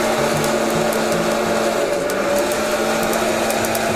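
A home coffee roaster runs steadily through second crack for a dark roast, a constant mechanical whir with a tonal hum and faint scattered crackling pops throughout.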